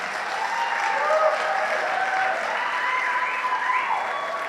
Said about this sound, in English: Can we please give a round of applause to Mr. and Mrs. Tiedekin, mom and dad